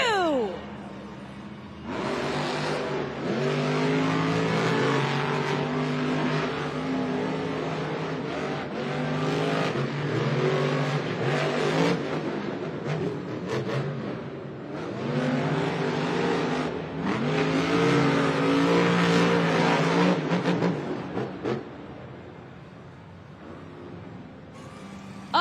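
The JCB Digatron monster truck races in the blue lane at a Monster Jam stadium event in Philadelphia, with loud engines roaring steadily and surging for most of the run before easing off near the end.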